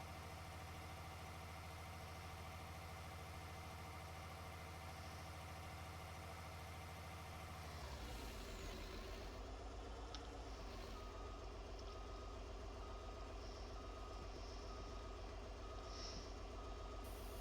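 A dump truck idles with a low steady rumble, then its engine note shifts as it shifts into reverse and rhythmic backup beeps sound at a moderate distance.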